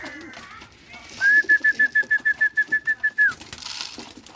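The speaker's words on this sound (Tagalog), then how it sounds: "Oh, may umiinom na mga kalapatids." Feeding pigeons give a run of about a dozen quick, evenly pulsed coos close by, with soft background shuffling and a voice talking before and after.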